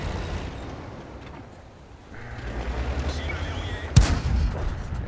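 A tank cannon fires in the World of Tanks video game: one loud, sharp boom near the end, set against a rumbling engine-and-battle background.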